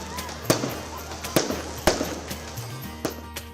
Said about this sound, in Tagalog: at fireworks display.